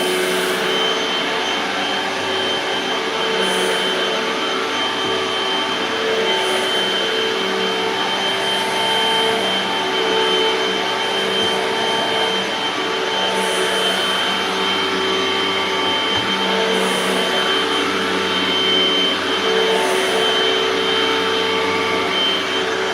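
A Hoover Windtunnel 2 HC Pet vacuum cleaner runs continuously during whole-house cleaning, a loud, steady motor whine with a broad airy roar and no voices.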